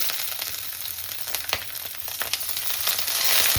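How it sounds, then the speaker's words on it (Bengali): Ginger sizzles and crackles as it fries in hot oil with fenugreek seeds, green chilies and a bay leaf, giving a steady, close spatter with sharp pops and no talking. "ভালো করে একটু আদাটা ভেজে নেব।"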